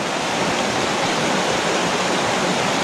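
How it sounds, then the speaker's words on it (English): Creek water rushes steadily and close by in a Southern California trout stream, a dense, even wash with no pauses and no voices. "This is creek number 2 for the day."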